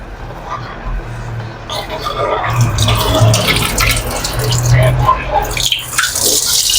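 Water pours steadily into a pot of shark fish curry with a splashing, filling rush while people talk nearby.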